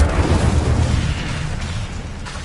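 An Incendio fire spell bursts in Hogwarts Legacy: a loud, rumbling, deep explosion that starts hard and fades slowly over a couple of seconds, with no voices.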